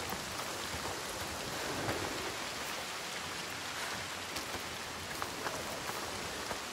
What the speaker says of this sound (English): The rain never stops.